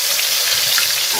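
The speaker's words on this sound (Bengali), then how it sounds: "তেল গরম হয়ে গেছে, এখন দিয়ে দিচ্ছি রসুন" Garlic sizzles vigorously in hot oil for a village-style olive pickle, giving a bright, dense crackle that stays steady and close with no talk.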